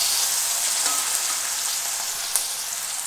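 Chopped ginger and garlic sizzle steadily in hot oil for a chicken spring roll filling, making a continuous close crackling hiss with a few small pops and no voices.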